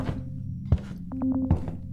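The kokeshi detector in the horror video game Shadow Corridor gives a short run of four soft tonal beeps in the middle, surrounded by heavy footstep-like thuds.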